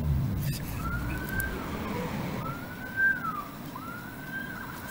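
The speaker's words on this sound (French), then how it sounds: "J'en reviens pas, le nombre de sirènes que j'ai atteint ici." Wailing sirens rise and fall in repeated sweeping cycles, heard at a moderate distance over traffic rumble.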